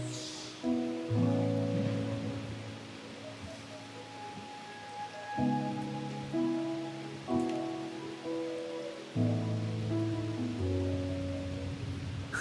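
Rain falling in the video game Wuthering Waves, a soft steady patter beneath sustained layered music chords that swell and shift throughout.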